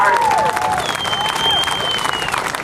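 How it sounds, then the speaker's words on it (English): An outdoor crowd at an air show applauds steadily for a skydiver landing on the ground, a dense, continuous wash of clapping with a few whistles mixed in. "Let's give Judy a round of applause"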